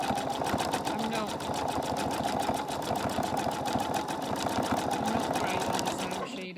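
A sewing machine stitches a quilt block in a steady, rapid mechanical rattle of needle strokes, loud and close, with a voice talking over it.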